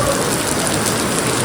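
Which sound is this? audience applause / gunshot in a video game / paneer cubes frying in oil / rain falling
rain falling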